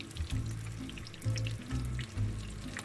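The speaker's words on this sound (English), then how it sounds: "All we're actually doing is crispying up those crumbs" Quiet sizzling of slow-cooked duck legs crisping in a pan with a chilli crumb coating, a soft crackle with low clattering movements as the pieces are shifted.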